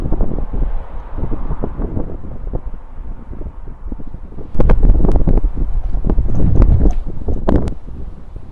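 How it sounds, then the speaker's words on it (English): Wind buffets the microphone in rough, gusty bursts, growing louder and harsher partway through, with no voices. "Windy."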